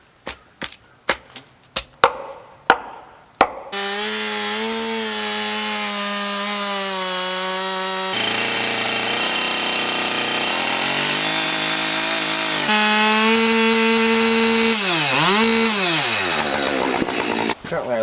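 Several sharp chops open the clip, then a chainsaw roars into a loud, steady cut through wood, its pitch dipping and rising as it bites.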